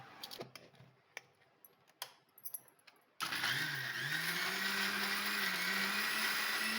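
Mixer grinder whirring steadily as it grinds grated coconut, turmeric and chilli masala for a hogplum sukka, its loud continuous motor drone starting abruptly after a few light clicks and knocks.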